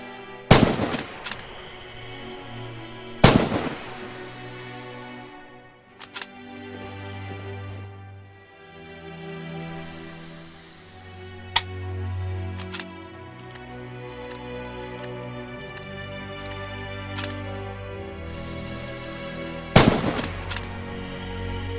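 Rifle shots ring out at targets in the World War II shooter Red Orchestra 2: Heroes of Stalingrad, sharp loud single cracks spaced seconds apart, with quieter interface tones between them.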